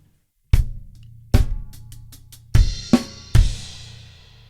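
A drum kit plays the fourth bar of an intro to a pop-funk groove, alone. Loud snare and crash hits ring out, and sharp hi-hat strikes sit between them. Each crash leaves a long shimmering decay.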